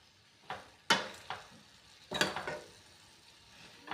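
Cauliflower sabzi stirred in a pan, the spoon scraping through the vegetables in a few separate sweeps with a light sizzle of frying between them, close and moderately loud, with no voices.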